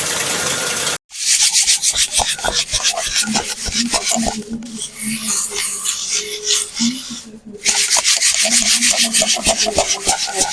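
Homemade organic dal lentils are sifted by hand, giving close, continuous gritty rubbing and rattling with brief pauses between bursts. A voice is faintly audible underneath.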